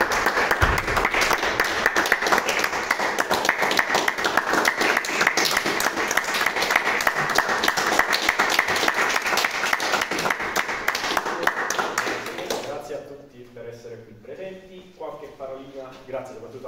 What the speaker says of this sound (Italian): raccogliere tutti insieme con un caloroso applauso